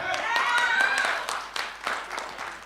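Audience applause at a talk, a burst of hand clapping from a crowd that stays steady and fairly close, then thins out, with a voice speaking over it.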